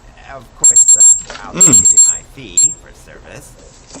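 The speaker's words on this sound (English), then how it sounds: "That was my alarm for going to sleep." A high-pitched electronic alarm beeps in rapid bursts of pulses, loud and close, sounding three times over talk and game dialogue while a Ratchet and Clank game on PS3 is played.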